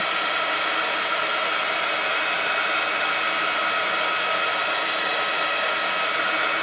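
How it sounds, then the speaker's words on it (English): A heat tool blows steadily to dry a craft card, producing a loud, unbroken whooshing hiss with a faint high whine, close up and alone for the whole stretch. "I'm going to grab my heat tool, and then what we're going to do is we're just going to blast this just to dry it."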